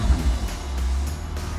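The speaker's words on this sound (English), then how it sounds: "That revving sound." A McLaren 600LT race-derived supercar's engine revs at close range, a deep, steady low rumble with the radiator fan running, and no talk over it.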